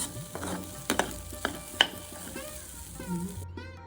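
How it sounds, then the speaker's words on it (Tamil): Moong dal being dry-roasted and stirred in a pan for a moringa leaf poriyal, with soft scraping and light sizzling plus a few sharp utensil knocks, close and fairly quiet, no talking. "பாசிப்பருப்பை ரெண்டு நிமிஷம் வறுத்தாச்சு"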